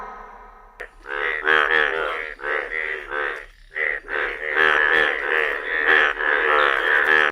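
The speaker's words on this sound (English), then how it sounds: "F for frog." A frog croaks in a rapid series of rattling calls, repeated in bursts with brief pauses, loud and close, no voices.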